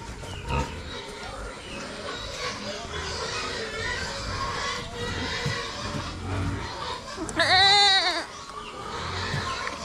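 Goats on a farm bleat amid general barnyard noise, with one loud, close, wavering bleat standing out near the end over a continuous background of animal sounds and people talking.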